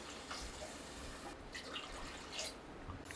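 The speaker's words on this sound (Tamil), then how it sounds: "3 டம்ளர் தண்ணியை நான் இதில் சேர்த்துக்கிறேன்." Water poured from tumblers into wheat rava in a cooking pot, a faint, steady splashing trickle lasting a few seconds in a quiet kitchen.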